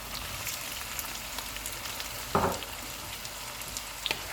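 Marinated chicken and tomatoes go into golden fried onions in a pot for chicken biryani. A constant close sizzle fills the clip, broken by one louder scraping stir midway and a couple of brief clinks near the end.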